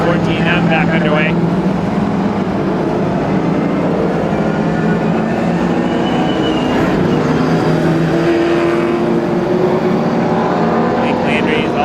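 Race cars at Star Speedway in a PASS 150 race pulling back up to speed after a caution, engines roaring and droning continuously under announcer talk.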